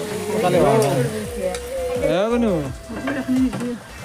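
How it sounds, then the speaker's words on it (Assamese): Hot water poured into a pan of pigeon and kohlrabi curry sets off a steady sizzle and bubbling while a person keeps talking over it. "গৰম পানী দিয়া গৈছে"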